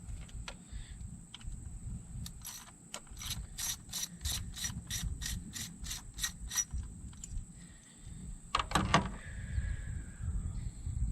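Ratchet turning an 8mm socket to remove an ignition coil on a Mazdaspeed 3 gives bursts of quick, close clicking, one run faster and sharper, among soft handling and rubbing noises.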